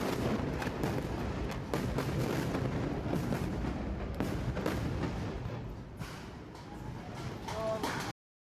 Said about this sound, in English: Wish you could differentiate the airstrike and secondaries.